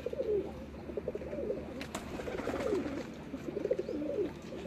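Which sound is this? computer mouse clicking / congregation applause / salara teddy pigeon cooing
salara teddy pigeon cooing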